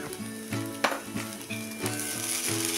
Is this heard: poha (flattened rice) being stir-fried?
yes